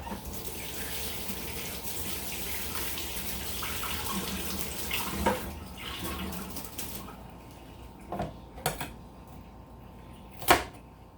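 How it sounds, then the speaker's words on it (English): A running tap pours steadily for several seconds while something is rinsed under it, then the water stops, leaving a few sharp knocks and clatters at a sink. "Maybe I better give it a little rinse."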